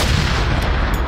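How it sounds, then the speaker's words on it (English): Rocket launcher firing in an action video game, a single loud, dense boom that fills the short moment with heavy low rumble. "So I used two rockets."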